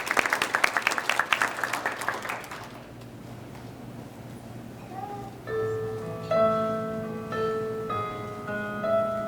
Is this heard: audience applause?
yes